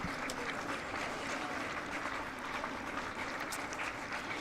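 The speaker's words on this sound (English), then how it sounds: "I'd like to think there'll be a generous round of applause for the Somerset number 11." Steady applause from a crowd at a county cricket ground during Nottinghamshire versus Somerset, heard from a distance as a continuous even patter that holds for several seconds at moderate-low level.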